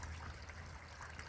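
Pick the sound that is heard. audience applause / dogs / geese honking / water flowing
water flowing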